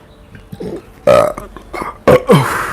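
Several loud, close burps in quick succession, each a rough, gurgling belch separated by short pauses, with the last two coming close together.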